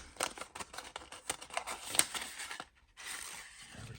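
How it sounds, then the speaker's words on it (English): An envelope holding Titanic model kit parts being torn and pulled open, a run of close, sharp paper rips and crinkles that ends in a brief pause before rustling resumes. "Let's just undo this envelope"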